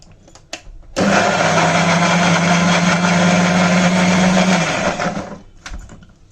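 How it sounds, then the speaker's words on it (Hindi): A mixer grinder coarsely grinding ginger whirs loudly and steadily for about four seconds, starting abruptly and winding down, with faint clatter before and after. "अभी मैं इसको मिक्सी में दरदरा पीस लेती हूँ।"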